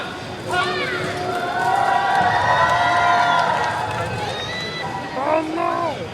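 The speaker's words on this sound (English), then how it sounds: "give me the biggest cheer of all" A street crowd at the 2013 Buskerfest on Ottawa's Sparks Street cheers for a busker, with a swelling wall of voices and whoops that rises, holds and peaks again near the end. A performer's voice sits among the shouts.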